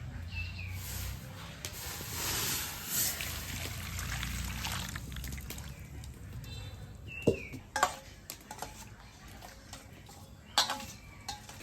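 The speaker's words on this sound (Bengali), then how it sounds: "মাছটা গরম জল দিয়ে একটু ধুয়ে নিব" Hot water trickles and splashes over fish as it is rinsed, a faint running flow with soft hissing, followed by several sharp clinks and knocks of handling near the end.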